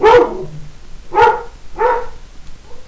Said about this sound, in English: There's probably a dog outside.